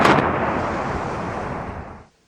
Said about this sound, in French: Le bruit de l'explosion se répercute dans les collines.